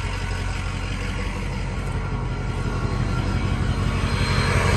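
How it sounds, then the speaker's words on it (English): A 2006 Ford F-250 pickup truck running with a steady, even exhaust rumble and a constant low engine drone, heard close and uninterrupted without any talking. "Exhaust sounds pretty nice."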